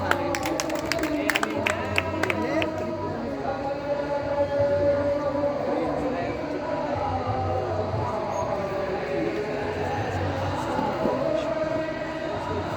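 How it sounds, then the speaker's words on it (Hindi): A school audience at a Teacher's Day event claps in a loose, continuing patter over a busy room, with talk and background murmur underneath. "ताली बजाओ यार"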